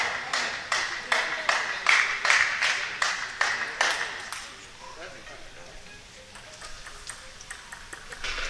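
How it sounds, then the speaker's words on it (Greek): A mobile phone rings inside a basketball arena during an Olympiacos versus Panathinaikos men's game, a quick string of bright, evenly spaced electronic pings that stops partway through, followed by quieter crowd ambience and faint voices. "Υπάρχει ένα κινητό το οποίο χτύπησε."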